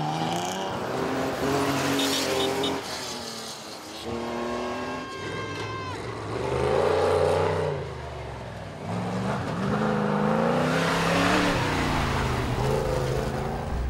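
Porsche rally cars on the East African Safari Classic Rally pass through small Rift Valley villages, engines revving and shifting loudly as they accelerate past in several bursts, with some crowd voices mixed in.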